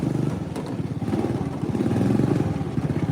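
A John Deere riding lawn mower engine runs steadily up close, a loud continuous low mechanical drone with rapid pulsing, building slightly in intensity while the mower climbs hills in fifth gear with loose belt tension.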